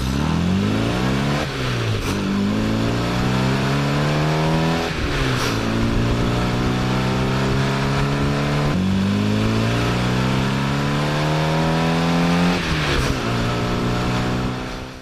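A 60 hp Mini Cooper with a K&N air filter intake and a straight-through exhaust revs hard over and over, each rising pull cut off by a gear change, loud and steady throughout.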